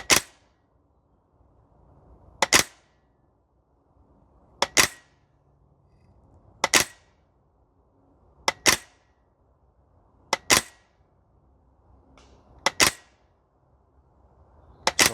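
A Maruyama SCP-9 PDW gas blowback airsoft SMG fired on an outdoor range, eight or so sharp, close single cracks spaced about two seconds apart, some in quick pairs, with quiet background between them.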